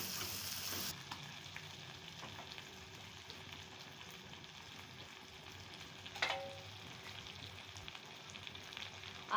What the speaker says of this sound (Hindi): अब डालने लगी भिंडी और साथ में हरी मिर्च 2-4।